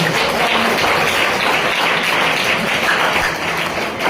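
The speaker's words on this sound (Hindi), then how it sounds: "जोरदार तालियों से उनका स्वागत करें।" Loud, continuous applause from a school assembly audience welcoming students of Chhatrapati Shivaji house at a Bal Sabha, a dense, steady wash of clapping throughout.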